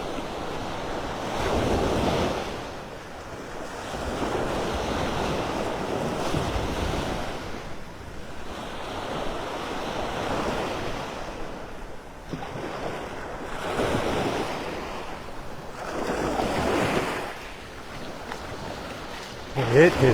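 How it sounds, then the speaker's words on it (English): Rough surf breaking on the beach at Delnor-Wiggins in North Naples at sunset, waves swelling and crashing in repeated surges with steady wind buffeting the microphone. "Let you listen to the sounds of the waves."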